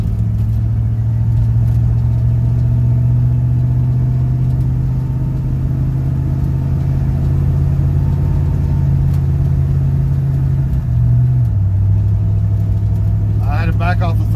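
A 1967 Chevy C10 pickup engine drones steadily while driving down the block, with a sustained low hum that dips briefly as the transmission shifts gear near the end, loud and close inside the cab.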